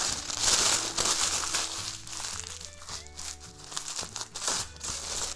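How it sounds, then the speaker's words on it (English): Parchment paper being crumpled by hand in a kitchen while making pumpkin pie, giving close, bursty crinkling and crackling that rises and falls over soft background music. "I have some parchment paper over here, and you're just going to crumple it."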